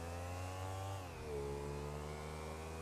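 A motorcycle engine in the video game GTA V drones at a steady, fairly loud pitch, dipping briefly and then climbing again as it revs, heard alone with no talking.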